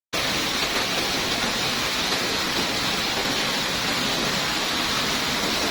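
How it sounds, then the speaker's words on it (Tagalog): Dense, steady rushing water of Busay Falls roars without pause, a broad constant wash of sound with no voices. "Diba narinig nyo naman yung sobrang lakas ng agos ng tubig?"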